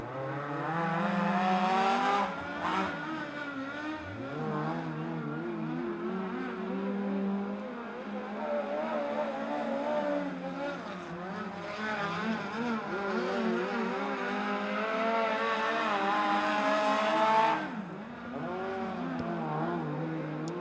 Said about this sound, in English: Should have two cars at a time on the track for BCRA WMR Super Series qualifying.